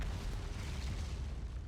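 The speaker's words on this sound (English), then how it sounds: "Gravity cannon." Gravity cannon in the Outer Wilds video game, a deep, dense, roaring rumble sustained across the brief moment, loud and close with broad low-end weight, no speech over it.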